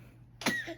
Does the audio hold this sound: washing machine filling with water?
no